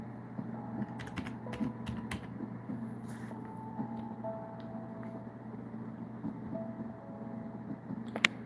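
Quiet, irregular clicking of fingers typing on a computer keyboard runs steadily over a low background hum, with no voices.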